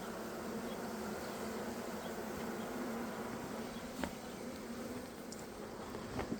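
Honey bees buzzing around a hive while bringing in orange pollen, a dense continuous drone of many wings, faint and steady with a few brief nearby passes.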